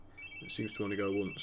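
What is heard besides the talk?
telephone ringing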